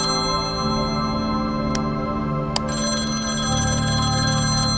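The ringing of a vintage telephone in the noir detective game Confidential Killings, clear bell trills in repeated bursts over a sustained musical backdrop, prominent and near, with no voices.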